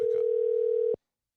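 A phone call tone on an outgoing call plays as one steady pitched beep for almost a second, then cuts off to silence.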